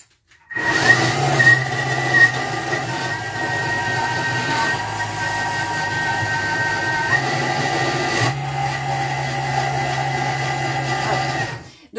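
A Thermomix blender whirs steadily at high speed, around speed 7 then 6, grinding cashews and other nuts for chocolate bites, a loud continuous motor drone with a slight pitch drop partway through.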